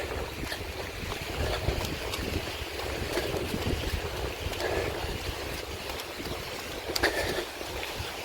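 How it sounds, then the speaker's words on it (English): A small waterfall feeding a forest river, giving a steady, even rush of flowing water that holds constant throughout with no voices over it. "The sound of the river there. Is it a river or a babbling brook?"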